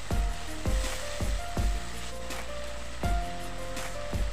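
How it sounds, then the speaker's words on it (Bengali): Spices sizzle in hot oil for a Bengali boal fish jhal curry: a steady, close frying hiss broken by regular knocks and scrapes from stirring, roughly every half second or so. "সমস্ত মশলাগুলোকে একসঙ্গে ভালো করে একটু কষিয়ে নিচ্ছি।"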